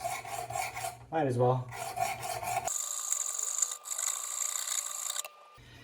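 A butter knife is drawn across WorkSharp Precision Adjust diamond plates in several quick, gritty rasping strokes, close and clear, with a brief spoken remark at the start.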